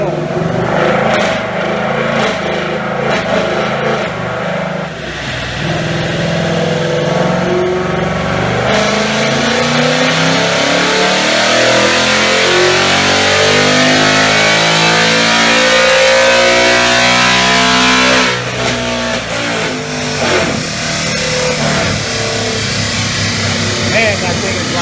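A 2018 Ford Mustang GT 5.0 running pump E85 roars on a chassis dyno pull, loud engine revving climbing steadily in pitch over about ten seconds, then dropping back as the run ends, with people talking around it.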